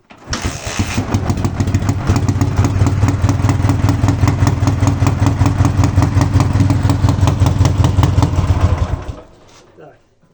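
A Dnipro motorcycle engine catches and runs, a loud, steady rumbling idle with rapid even firing pulses for about nine seconds before it cuts off.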